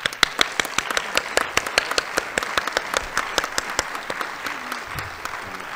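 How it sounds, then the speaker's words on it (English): A lecture audience gives a round of applause, with distinct close hand claps standing out sharply over a thinner crowd of clapping that gradually thins and softens, with faint voices near the end. "I'd like to give them a round of applause."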